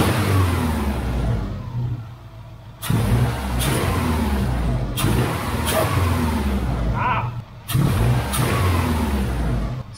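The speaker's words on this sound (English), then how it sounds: "let's listen to the intake noise." A Subaru RS engine, a car being saved from the junkyard, revs through its intake in repeated bursts, each one rising to a loud roar and then dropping back to idle, with a short exclamation from someone nearby.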